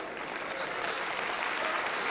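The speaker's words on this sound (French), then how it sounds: "un combat qui est vivement apprécié et très nettement applaudi d'un public éclectique" An audience applauds a 1957 wrestling bout between Gilbert Leduc and Warnia De Zarzecki, a steady, dense wash of clapping that stays loud and even throughout, with a dull, muffled old-recording tone.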